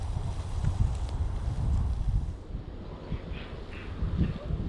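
Stormy wind blows outdoors across a vegetable garden, producing a continuous loud rumbling roar with gusty buffeting against the microphone.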